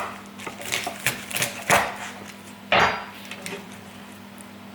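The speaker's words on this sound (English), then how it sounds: "To prep the asparagus, I literally just cut the ends off" A kitchen knife cuts the woody ends off a bunch of asparagus on a board, giving a few sharp chopping knocks and clinks with short pauses between them, close and fairly loud.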